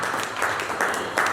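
A church congregation in Metz applauds in worship, acclaiming Jesus: steady, dense clapping from a crowd, swelling in a few rhythmic pulses, with faint voices underneath.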